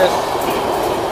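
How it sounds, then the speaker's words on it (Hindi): An Antyodaya Superfast Express electric train passes in the early morning, a steady rumble of rolling wagons heard close by without a break. "now Antyodaya superfast express"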